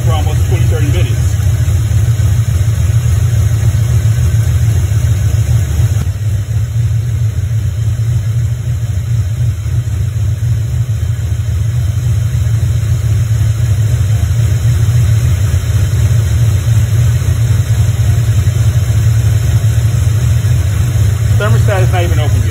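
A Ford Mustang SN95 sits idling while it warms up to temperature, giving a loud, steady low engine rumble that runs unchanged for over twenty seconds.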